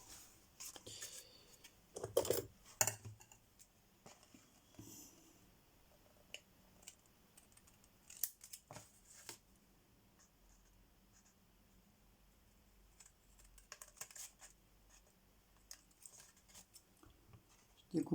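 A paper Easter card being trimmed produces faint, scattered scraping and snipping sounds in short clusters, separated by long quiet stretches in a hushed room.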